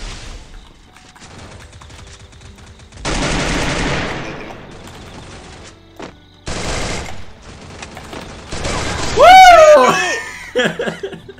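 Bursts of rapid video game gunfire come and go, mixed with game sound effects, while people talk and laugh over it.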